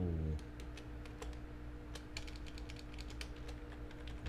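Fingers type steadily on a computer keyboard at close range, producing a quick, uneven patter of key clicks over a low background hum.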